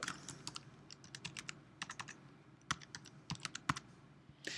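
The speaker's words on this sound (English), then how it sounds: "we're just going to type in Dr." Keys clatter on a computer keyboard in short bursts of quick clicks with brief pauses, close and fairly quiet, as a title is typed.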